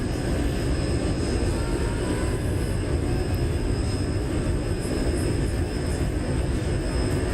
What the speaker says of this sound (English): We're currently flying the Qantas 737 livery